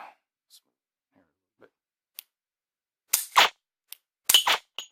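Dry-fire clicks from a G-Sight LaserHit laser training pistol, a few sharp snaps, mostly paired, in a quiet room with faint small handling noises between them.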